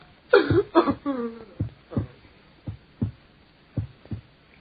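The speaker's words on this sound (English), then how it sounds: "Listen to the heart beat its last beat." Heartbeat sound effect in an old radio drama, slow thuds spaced about a second apart that fade and slow, following a voice's groans at the start.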